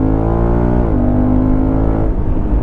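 Honda CRF1100L Africa Twin Adventure Sports 2022 DCT motorcycle engine revving close up, a loud steady drone that shifts pitch midway and settles before roughening near the end, with no voices.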